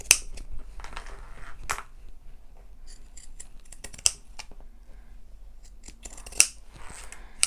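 Scissors snip through excess fabric while a tote bag is sewn, sharp close-up cuts spaced irregularly, several crisp snips with quieter rustling between.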